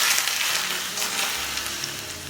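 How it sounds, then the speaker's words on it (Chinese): Hot oil is poured over minced garlic and small chillies, giving a loud, close burst of bright sizzling hiss that holds steady and slowly eases over a couple of seconds. "泼上热油逼出香气"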